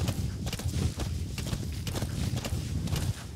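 Steady clip-clop of horse hooves at a walking pace in Metal Gear Solid V: The Phantom Pain, close and fairly clear, with a faint background hum underneath.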